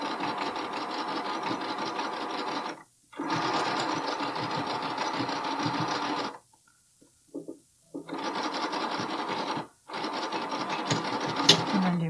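A sewing machine stitches and back stitches a bralette seam in three long even bursts separated by short pauses, close and steady with a brief softer stretch in the middle.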